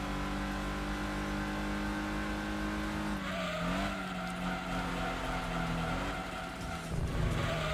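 A Mazda Demio racing in Gran Turismo 2, its engine a steady, loud drone with rising and falling revs throughout and a brief tire squeal near the end, with no talk over it.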